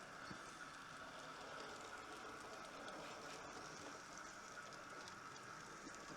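A continuous rumbling clatter of a small model train, a Garratt locomotive, running along layout track, steady and fairly faint, with no voices.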